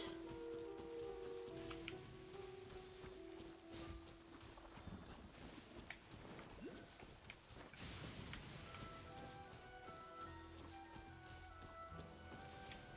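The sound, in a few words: rain in a video game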